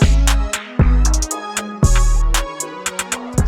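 A futuristic hip-hop beat plays loud and close, with booming deep bass hits, sharp snappy percussion and rapid hi-hat rolls in a steady rhythm, with no vocals.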